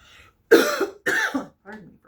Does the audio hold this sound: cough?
yes